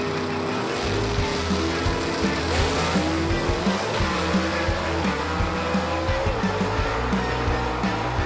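Gasser drag race cars roar down the strip side by side in a championship matchup, a loud, sustained engine blare with harmonic bands wavering as they accelerate, near and continuous with no talk over it.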